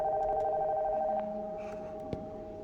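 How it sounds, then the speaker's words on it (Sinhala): A telephone rings from upstairs in the horror game Nocturnal Visit, a faint, distant electronic ring with steady tones over low background ambience inside a house. "This phone from upstairs in ringing."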